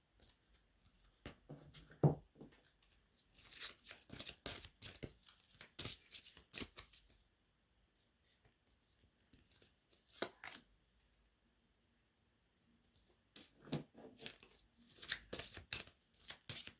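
A deck of tarot-style cards is shuffled in several separate bursts of quick, soft riffling and slapping, close and quiet, with pauses between them and only faint background speech.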